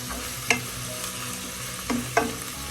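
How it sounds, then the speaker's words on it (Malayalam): Onions sautéing on a low flame in a pan for quail egg curry, a soft steady sizzle with a few clinks of stirring, close by and with no talking. "ലോ ഫ്ലെയിമിൽ നമുക്കൊന്ന് വഴറ്റാം."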